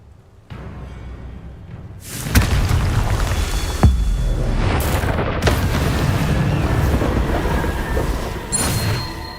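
A Confringo blasting curse detonates in Hogwarts Legacy, a loud, close boom followed by a long rumbling roar with a few sharp cracks, sustained for several seconds with no talk.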